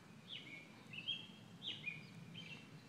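Birds chirp up in a tree at Colonial Williamsburg: a few short, high, faint calls repeat about every half second over a soft outdoor background.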